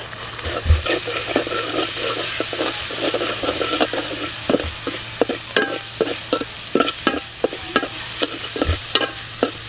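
Bay leaves dropped into cooked-down spices frying in a pan bring loud, close stirring: rhythmic spoon scrapes and knocks over a steady sizzle, with a low hum underneath.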